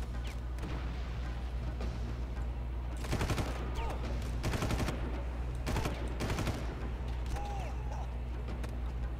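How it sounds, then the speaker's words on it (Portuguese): Gunfire in the video game Far Cry: repeated rapid bursts of automatic shots rattle out in clusters, loud and close, separated by short pauses over a low, steady background hum. "Tem alguém fucking atirando em mim, cara."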